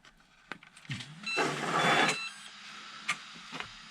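A steering servo on a brushless Barbie Jeep RC drift car whirs briefly after power-up, a short buzzing motor burst lasting under a second, flanked by a few small clicks, close and alone.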